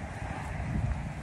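Strong wind buffeting the microphone beside Lake Maardu on a mild autumn day, a steady low rumbling roar with gusts, no voices.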